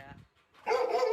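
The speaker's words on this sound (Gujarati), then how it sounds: "ડોગે રાડું નાખે છે, ઘોડી લઈ જાય એટલે." A dog barks in a short loud burst at a place where mares are kept and sold, and a person's voice is heard just before the bark.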